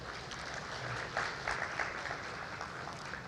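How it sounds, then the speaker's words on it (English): Audience at a G20 Indonesia side event on blue carbon conservation gives a round of applause, a fairly quiet, steady patter of many hands heard from a distance across the room. "may I have a big applause for this event"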